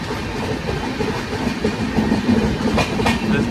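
An empty-rake train rolls past at a railway station, a steady clattering rumble of wheels over rail joints that holds throughout.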